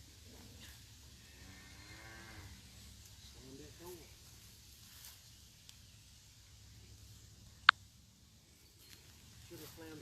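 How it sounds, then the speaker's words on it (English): Cows on a farm low in a couple of drawn-out moos, with farm background hum, a sharp click, and people talking nearby. "There's some cows right there."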